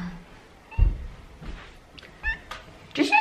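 A house cat meows a few short times near a table, brief calls scattered among light room noise with a little background talk.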